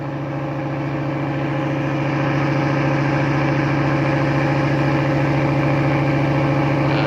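A large fishing boat engine idles steadily and loudly out of gear throughout, a low rumbling drone with a constant throbbing pulse and no voices.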